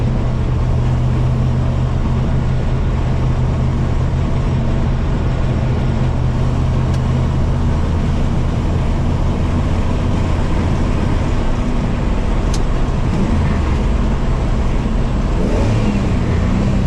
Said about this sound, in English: 70 miles an hour, hand off the steering wheel. There's a few vibrations, but and lots of wind noise